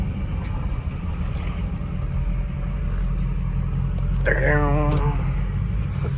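A deleted 6.0 pickup truck engine idles and rumbles steadily while backing up, with a muffled voice speaking briefly partway through.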